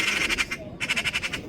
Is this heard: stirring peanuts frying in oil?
no